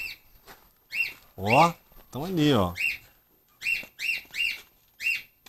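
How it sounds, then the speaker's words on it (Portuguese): Small birds chirp near horse stables, repeating short, bright chirps in quick groups. People talk over part of it, and the chirping continues clearly between their voices. "Olha lá, vamos ver os passarinhos ali."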